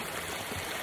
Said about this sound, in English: I'm sitting here along the upper Skookum Creek